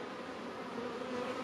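Honey bees buzz steadily around an open hive, a soft continuous drone with no voices.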